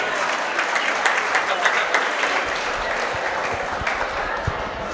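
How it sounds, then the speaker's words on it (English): An audience at a fundraiser for a youth club claps steadily for two presenters, dense sustained applause filling the room for the whole span at an even level. "A nice round of applause for Cam and Jordan."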